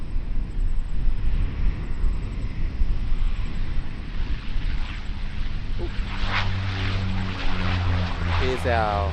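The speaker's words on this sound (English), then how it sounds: "Here's our Air Chatham Sub 340." An Air Chatham Saab 340 turboprop arrives at Auckland Airport, its propeller drone steady and fairly close over wind buffeting, with rising whining tones toward the end as it nears.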